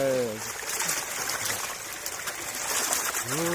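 Water pours steadily into a freshwater giant prawn pond at a farm in Isan, Thailand, a constant rushing trickle, with brief voices heard at the start and end.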